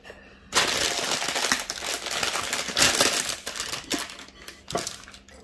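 A potato being peeled by hand in a home kitchen, giving a run of close, dry scraping and crinkling strokes with short sharp clicks, no voices.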